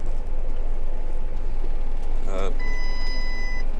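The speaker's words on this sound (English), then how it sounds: "Ignore that beeping, it's just a dodgy sensor." A steady electronic alarm tone from a faulty sensor beeps for about a second over loud, continuous engine rumble from farm machinery spreading potash on cereal crops.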